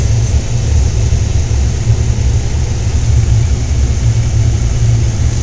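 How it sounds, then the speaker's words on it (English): Trucks, among them a FedEx delivery truck, roll past on a snowy street in Ely, a steady broadband engine and tire rumble that stays loud and close throughout. "Even the trash trucks. And whoa! FedEx truck."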